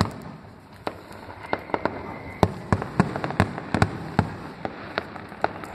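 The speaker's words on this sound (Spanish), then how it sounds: "están tirando fuegos artificiales un poco, un poquito aquí." Fireworks going off over a town street during the local festival in El Ejido, Almería, Spain: a scattered series of sharp, moderately distant pops and bangs, some in quick clusters, over a low steady background hum.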